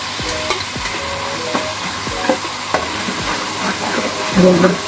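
Ginger garlic paste fries with onions in a pan for an egg kofta dish, a close, steady sizzle with repeated spoon scrapes and knocks against the pan throughout, and no talking.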